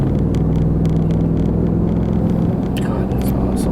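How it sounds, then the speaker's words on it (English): Steady road rumble and engine drone from inside a car on Idaho's curvy Old Spiral Highway as it overtakes a truck, a loud continuous whir with a sustained tone, brief faint sounds near the end. "Gotta pass a truck."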